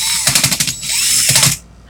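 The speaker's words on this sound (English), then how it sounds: "I'm going to twist my drill in the forward motion." A close, loud ratcheting clicking as a hand drill is twisted forward, a rapid series of clicks followed by a grinding whir that stops abruptly.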